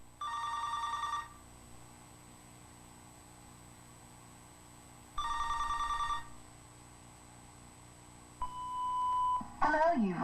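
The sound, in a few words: telephone ringing before answering machine greeting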